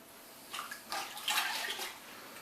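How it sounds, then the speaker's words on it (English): Washing soda for homemade laundry soap poured and stirred into water, giving soft splashing and swirling water sounds over about two seconds, fairly quiet with no talking. "we're going to go ahead and put that in our water."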